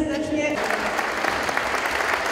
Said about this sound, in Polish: Wielkie brawa, ogromne brawa dla naszej grupy wokalnej